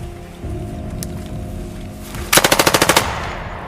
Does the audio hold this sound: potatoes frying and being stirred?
no